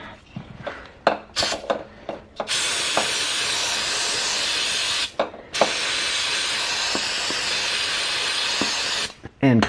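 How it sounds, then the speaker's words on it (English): Brake cleaner sprays from an aerosol can onto the rear brake caliper of a Honda CBR600RR motorcycle in two long, loud, steady hissing bursts, with short clicks and handling sounds before and between them. "So what I would do is get yourself some brake clean."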